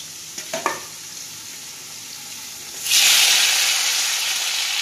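Tomatoes are dropped into hot oil tempered with black cumin seeds. A few soft clinks come first, then a loud, bright sizzle bursts up and keeps hissing steadily close by.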